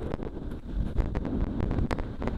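Gusty coastal wind at Portland Bill, Dorset, buffets the microphone with low, rumbling roars that surge and fade in bursts throughout, loud and close, with no voices.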